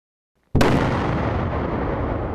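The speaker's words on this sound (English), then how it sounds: "Sometimes an explosion is your only option." A single loud explosion at an Army sapper competition on Fort Drum bursts in suddenly after half a second of silence, then rolls on as a sustained, heavy roar.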